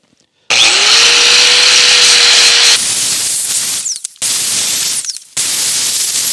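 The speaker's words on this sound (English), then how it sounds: "I'm very carefully using a flapper wheel on the clutch hub because it has some nasty nicks in it." A flap wheel grinds the nicked metal clutch hub of a roughly 60-year-old Scout locking hub, a loud steady whirring abrasion with a whining tool tone, stopping and restarting in a few short bursts.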